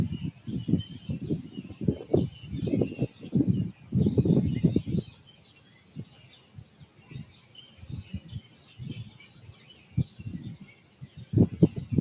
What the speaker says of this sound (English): I was watching these gang of birds. They done came out of nowhere.